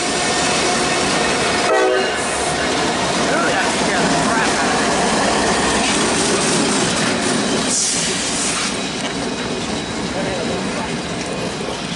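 A freight train with Norfolk Southern engines passes westbound beside the tracks outdoors, a loud, dense, continuous roar of rolling cars with a brief horn-like tone near the start.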